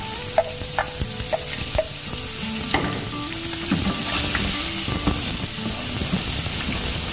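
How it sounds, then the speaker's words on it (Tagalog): Garlic and onion sauté in oil in a pot, a continuous sizzle with scattered knocks and scrapes of a utensil stirring, and steam hissing steadily throughout. "Tapos igisa na natin yung ating bawang."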